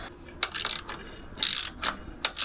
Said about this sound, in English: this is the handle we use for click, click. Click, click.